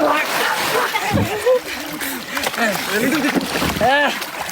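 Water splashes in a makeshift village swimming pool with bursts of sloshing and churning, while voices shout and talk excitedly over the noise.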